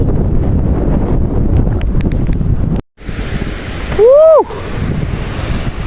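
Strong wind buffets the microphone at a seashore on Shahporir Dwip island near Teknaf, Bangladesh, with surf rumbling beneath. The roar is loud and continuous, briefly cut out, then returns with a short tonal whistle-like sweep.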